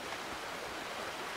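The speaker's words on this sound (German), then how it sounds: "Wasserfall." Waterfall in the video game Uncharted: Drake's Fortune, a steady, faint broadband rush of falling water that continues evenly with no voices.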